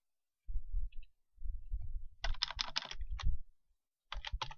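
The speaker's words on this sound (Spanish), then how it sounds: "Control Shift F." Keyboard keys clatter in quick clustered bursts as a shortcut is typed in a word processor, crisp close clicks with short pauses between groups.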